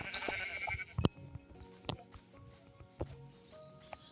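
Minecraft sheep give a faint bleat at the start, set among soft, quiet game sounds with a few sharp clicks and taps scattered through the rest.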